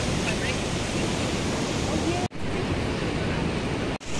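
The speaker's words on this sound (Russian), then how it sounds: "Начинается прилив" Pacific Ocean waves as the tide comes in on a Costa Rica beach, a dense continuous roar of surf and wash, broken by two brief dropouts, loud and close.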